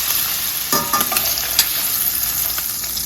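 Shrimp sizzling and frying in a pot for shrimp scampi, a steady bright hiss throughout with a few clinks and stirring knocks as the pieces are lifted out.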